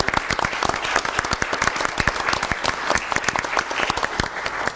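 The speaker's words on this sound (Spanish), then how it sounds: "Un aplauso para ellos" Audience applause after a public talk proposing a copper free-trade zone between Chile and Peru, a dense steady burst of many hands clapping close up throughout, with no talk over it.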